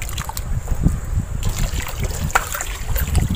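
Water pours from a pipe and fills a container, a steady splashing trickle at close range with small knocks and clatter around it, and no clear talking.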